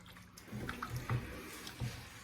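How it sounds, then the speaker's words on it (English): A spoon stirs salt into an Italian-style bacon soup in a pot, giving soft, wet sloshing and faint drips that are quiet and close, with no talking. "Stir it all in."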